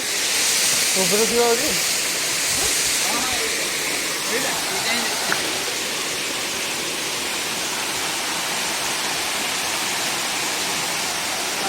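Khajuribani waterfall in Keonjhar district, a steady, loud rush of falling water filling the whole clip, with brief voices talking over it early on.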